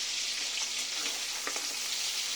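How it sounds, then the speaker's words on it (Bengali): Shrimp frying in oil in a pan, a dense bright crackling sizzle that holds steady throughout with a few sharper pops, close and moderately quiet. "প্রথমে চিংড়ি মাছটাকে সুন্দর করে ভেজে নেব"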